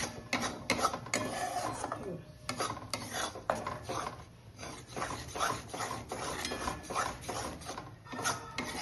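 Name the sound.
continuously stirring Mysore pak mixture in a pan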